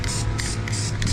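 Rubberized black spray paint hisses from a can in a few short, quick bursts, each close and fairly loud, separated by brief gaps.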